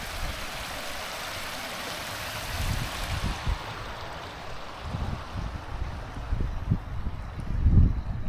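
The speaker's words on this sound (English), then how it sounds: "The spilling water." Water spilling over a dam near some shops after good rains, a steady broadband rush with low rumbling surges that swell louder toward the end, no voices.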